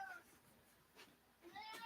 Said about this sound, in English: Cat always meows when I start the video.